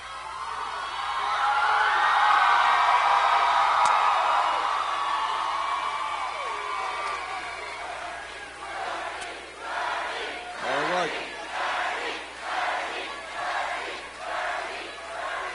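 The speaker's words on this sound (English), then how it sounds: "This is a large, loud, raucous crowd, kind of crowds I like." Large, loud crowd at a Bernie Sanders political rally in Reading, Pennsylvania, a swelling roar of cheers and whoops that peaks early, then breaks into rhythmic pulsing chanting.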